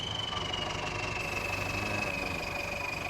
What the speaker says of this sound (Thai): มาถึงเวลา รถไถ ออกโรงละ